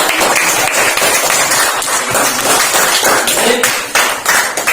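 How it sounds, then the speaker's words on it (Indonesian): Elementary school classroom clapping for two pupils after a poetry reading, a busy, loud patter of many small hands applauding continuously, close to the recorder, with a few taps standing out. "kita tepuk tangan untuk Joshua dan Delano."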